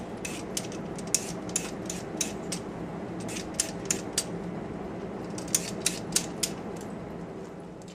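A handheld peeler scrapes along a raw carrot in a kitchen, giving a series of crisp, close, irregular scratchy strokes that are sharp and clicky, with nobody talking.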